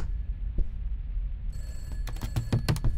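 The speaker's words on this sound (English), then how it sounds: "There's a phone ringing behind me." A telephone ringing in a dark house in a horror video game, coming in after a quiet, dim stretch as a series of bright, repeated bell-like rings over a low background rumble.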